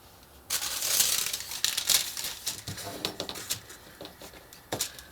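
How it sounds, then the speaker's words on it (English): Cardstock strips being folded by hand while building a paper steampunk locomotive model, giving close, soft crinkling and papery taps in an irregular patter with no talking. "So I'm just kind of folding them in a little bit."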